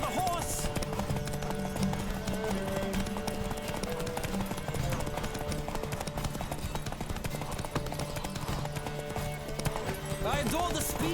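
Hooves of a horse galloping steadily in The Witcher 3: Wild Hunt, a rapid clip-clop rhythm that runs throughout under in-game music and ambience.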